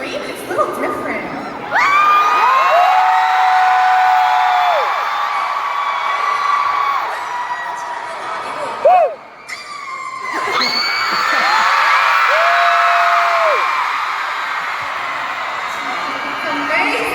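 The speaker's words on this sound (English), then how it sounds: "Just the way you guys scream, it's a little different." A concert crowd at a show in Orlando screams and cheers in long, loud, sustained waves of shrill, high-pitched shouting. There is a brief dip near the middle before the roar swells again, with no talking over it.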